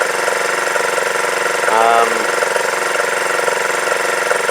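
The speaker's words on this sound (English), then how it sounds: "It does sound a little throaty, but that's because I've got no air cleaner in it whatsoever." A Kawasaki BN125 Eliminator motorcycle engine runs at idle with no air cleaner fitted, a steady, throaty, rough drone heard up close and loud throughout, with a brief louder blip near the middle.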